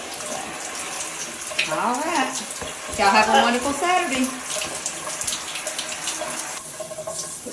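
Tap water runs steadily into a bathtub being filled for a dog's bath, a constant close splashing hiss, while a person talks over it partway through.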